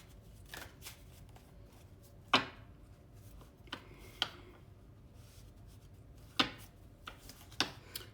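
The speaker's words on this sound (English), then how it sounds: "Shuffle this a bit." Tarot cards being shuffled close up, a few sharp riffling bursts separated by quieter handling, with no talking.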